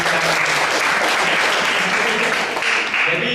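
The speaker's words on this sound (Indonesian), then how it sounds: "kita berikan tepuk tangan" Audience applause at a church youth gathering, a dense, loud wash of clapping from many people, sustained and even throughout with faint voices mixed in.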